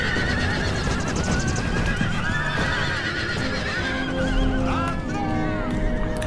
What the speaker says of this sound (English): Here comes their first assault with some lousy provincial cavalry.